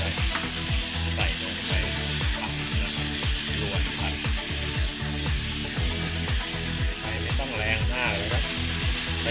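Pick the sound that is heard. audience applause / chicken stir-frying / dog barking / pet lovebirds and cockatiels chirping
chicken stir-frying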